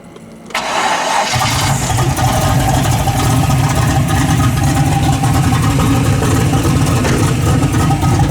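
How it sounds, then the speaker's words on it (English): A carbureted car engine cranks and fires, then settles into a steady, loud idle near 900 rpm, heard close with an even rumble and no talking. "I've had to open this primary T-slot up a whole lot to get it to idle on this motor"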